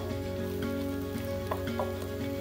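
Leeks and vegetables frying in a pan for a lamb pot pie, a steady close sizzle with soft crackles and a few brief stirring taps over a low background hum.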